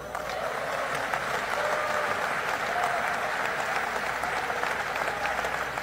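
Steady, dense applause fills a large hall during the Philippine president's State of the Nation Address, a continuous wash of clapping from a big audience that holds at an even level throughout without breaks.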